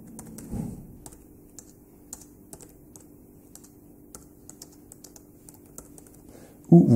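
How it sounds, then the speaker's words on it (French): Text being typed on a computer keyboard, a steady run of light, scattered key clicks at close range, with a brief louder thump near the end. "Vous pouvez tout simplement le taper manuellement."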